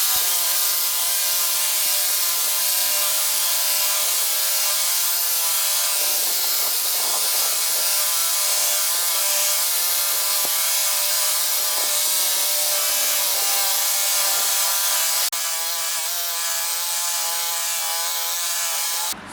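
A Makita reciprocating saw cuts through a 150 mm poplar log felled almost a year ago and no longer soft. It gives a loud, steady, unbroken buzzing rasp for about nineteen seconds, with no voices.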